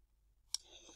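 A single sharp mouse click on a computer, brief and fairly faint against an otherwise quiet background.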